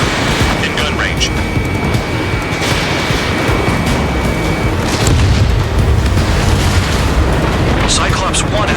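Deep booming explosions and rumbling blasts from UAVs being shot down in the Ace Combat 7 jet combat video game, loud and continuous with aircraft engine roar and radio chatter throughout.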